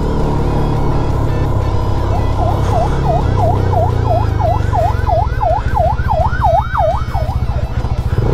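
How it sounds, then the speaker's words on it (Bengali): A wavering emergency siren rises and falls steadily over continuous engine and road rumble on a road ride from Bandarban to Alikadam, growing louder and nearer over several seconds. "ভাগ্য ভালো সে সাইরেন বাজাচ্ছিল দেখে টের পেয়েছি"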